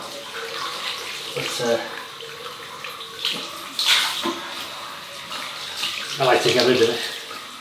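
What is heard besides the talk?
rinsing a Gillette razor under running water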